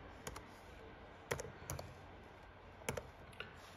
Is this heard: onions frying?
no